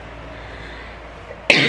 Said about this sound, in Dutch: En elke keer als het avond wordt moet ik helemaal hoesten